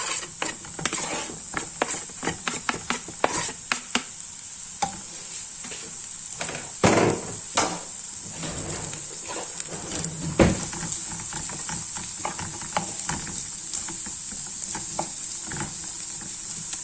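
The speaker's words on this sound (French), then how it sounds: "j'ai mis un filet d'huile d'olive dans une poêle. Je laisse un petit peu chauffer avant de rajouter l'oignon." Onions fry in olive oil in a pan with a steady, moderate hiss, punctuated by frequent clicks and scrapes of stirring.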